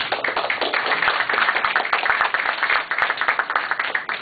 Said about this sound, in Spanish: lo recibo con un aplauso